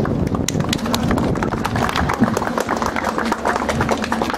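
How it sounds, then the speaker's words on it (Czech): An audience applauds at an outdoor open day of a driving school as a Kia Ceed car is handed over to a prize winner; steady clapping fills the whole stretch, dense and continuous, with faint voices mixed in. "Prosím o potlesk"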